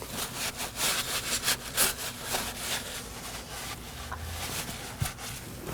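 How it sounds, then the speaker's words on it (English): Repeated rough rubbing strokes, close and steady, like a clean rag wiped briskly back and forth over a Nissan Sentra's rear brake area. "And wipe it down with a clean rag"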